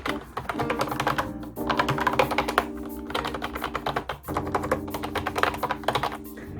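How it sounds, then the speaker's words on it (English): Steady, continuous typing on a MacBook Air keyboard, with rapid clacking keystrokes close by and two brief pauses, no voices. "And the keyboard sounds like this."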